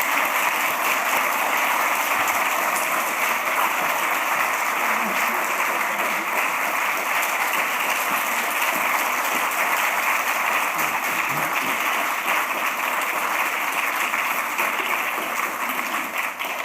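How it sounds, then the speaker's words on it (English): Sustained audience applause in a large hall as Secretary General Ban Ki-moon is welcomed to the podium at a climate change and sustainable development event, a steady dense wash of clapping without pause. "I ask all of you to join me in inviting Secretary General Ban Ki-moon to the podium with a round of applause"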